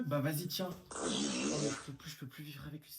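A loud, drawn-out fart of about a second breaks in during a comedy sketch, between stretches of French conversation from two speakers.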